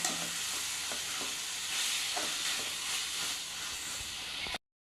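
Chili sauce with baby corn and mushrooms is stirred in a pan, giving a steady close sizzling hiss with soft scraping strokes throughout until it cuts off abruptly near the end.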